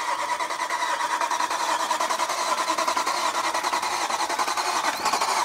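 A BMW E92 M3 4-liter V8 that had sat for three years cranks with a fast, even rhythmic chatter, then fires and keeps running, fairly faint and close with no talk.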